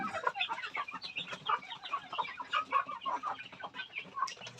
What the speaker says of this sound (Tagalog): So ito yung ating manukan sa gilid ng ating bahay